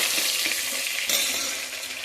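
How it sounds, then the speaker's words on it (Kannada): Onions with dried and green chilies frying in a pan, a steady hissing sizzle with a few soft stirring scrapes, close and continuous through a short stretch. "ಇವಾಗ ಈರುಳ್ಳಿ ಫ್ರೈ ಆಗಿದೆ."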